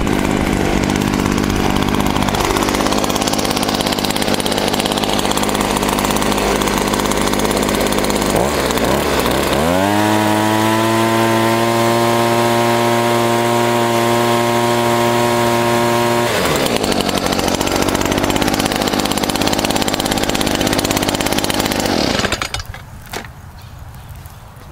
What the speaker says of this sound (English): So I'm gonna use a leaf blower and blow the ashes off